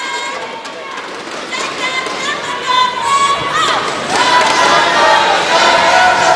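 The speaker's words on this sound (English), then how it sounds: "The Malaysian crowd's very happy with that though." A Malaysian crowd at a women's team squash final against Singapore at the 2017 SEA Games cheers and shouts loudly, a dense roar of voices that swells toward the end, with a commentator talking over it.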